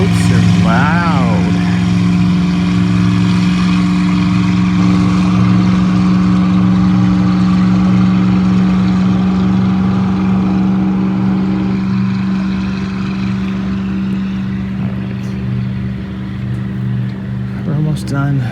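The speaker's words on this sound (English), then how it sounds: "Those boats are loud." Loud boat engines drone steadily on a river beneath the Wheeling Suspension Bridge in West Virginia, a constant low hum that fades slightly toward the end, with people talking over it.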